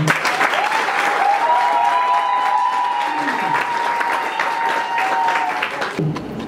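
Guests at a civil wedding ceremony break into steady, full applause that fills the room and carries on for about six seconds before stopping abruptly.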